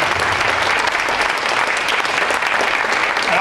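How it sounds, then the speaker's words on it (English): An audience at a Senior Olympics kickoff event breaks into sustained, dense applause, loud and continuous from start to finish. "how about a round of applause for Kelly Irizarry?"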